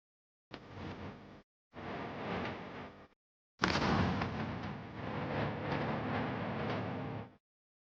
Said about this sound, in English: DSNS sappers transported them to a special location and detonated them.